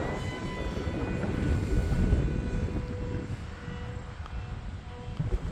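A HobbyZone Aeroscout RC plane flies in gusty wind, its thin motor whine riding over steady, loud wind buffeting that roars against the microphone throughout.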